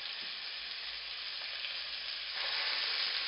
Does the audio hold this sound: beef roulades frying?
yes